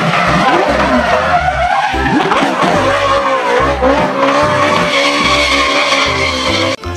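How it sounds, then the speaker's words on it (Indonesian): Red toy race car sound effect: loud, continuous racing engine roar with screeching tire skids and shifting pitch, running steadily throughout before cutting off sharply at the very end. "lihat ini warna merah, brum brum brum brum brum brum. Ini mobil balap."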